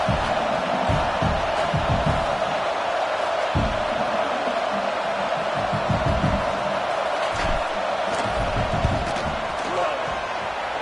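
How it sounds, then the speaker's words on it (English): A stadium crowd in a football video game roars steadily during a field goal kick, a dense continuous wall of noise with thumping bursts, with a commentator's voice talking over it. "This crowd trying to do its part to get inside the kicker's head."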